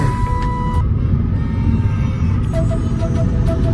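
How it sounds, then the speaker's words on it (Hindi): Mahindra Scorpio N car driving on a road, with a steady loud engine and road rumble throughout, close to the listener and without any speech. "मेरा दोस्त गाड़ी लेके आ रहा है"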